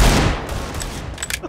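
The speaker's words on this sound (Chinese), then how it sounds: "我听到你开枪噶， 打两枪。" Gunfire in a competitive CS:GO match: a dense burst of overlapping shots at the start, then scattered sharper reports trailing off, loud and close, with no talking.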